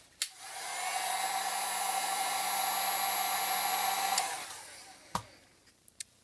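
A heat tool blows hot air onto the adhesive of an iPhone 5S: a steady, loud whooshing hum for about four seconds that then winds down, followed by a few sharp clicks and taps.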